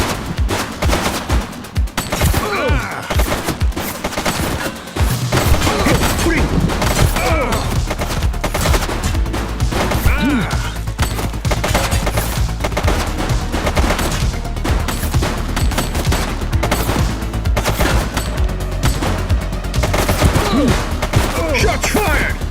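Sustained automatic gunfire in the police video game The Precinct, a dense fusillade of rapid shots running nearly continuously and loud throughout, with heavy low rumble after the first few seconds.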